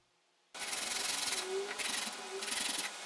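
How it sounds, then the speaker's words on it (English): Red oak and walnut pieces rubbed on a sanding board, giving a loud, close, rhythmic scratchy rasp in repeated back-and-forth strokes that start abruptly after a quiet moment. "I give them a rub down on my sanding board"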